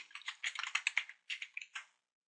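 A computer keyboard is typed on in a short, quick burst of close, quiet key clicks, then a brief pause and a few final keystrokes before silence.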